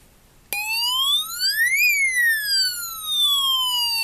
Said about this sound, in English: I guess that sounds like a fire engine.